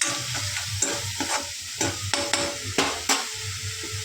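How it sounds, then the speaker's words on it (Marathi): Spice paste for a dhaba-style whole masoor dal sautés in oil in a pan, a steady close sizzle broken by repeated scraping stirs of a spoon against the pan, with no talking. "वाटणाला चांगलं तेल साईडने सुटलं ना, तर समजायचं की वाटण चांगलं आपलं परतून झालेलं आहे. त्याला मस्त चांगलं परतून घेऊ."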